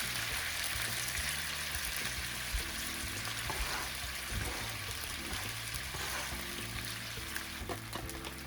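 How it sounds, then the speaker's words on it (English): Juices from a rested tri-tip steak hiss and sizzle steadily in a hot pan while a jus is made, a constant close frying crackle with a low musical hum underneath. "I'm also going to add in the juices that came out of the steak"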